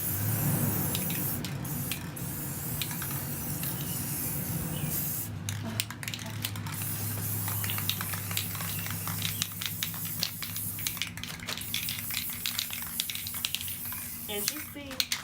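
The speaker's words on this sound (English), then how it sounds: "so I'm just gonna spray paint this." Gold metallic spray paint on a hula hoop photo frame, heard as a hissing aerosol spray in bursts of varying length, with rattling and clicking of the can between passes and a low hum in the background.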